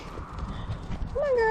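Horses moving about a farm paddock at feeding time, with soft low hoof thuds and shuffling under steady background noise, followed by a rising whinny-like call near the end.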